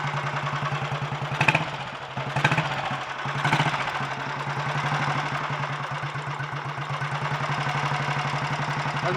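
A Royal Enfield Bullet 350 G2 single-cylinder motorcycle engine idles after a rebuild, running steadily and smoothly with a low, even thump. A few sharper clattering knocks stand out in the first few seconds before it settles.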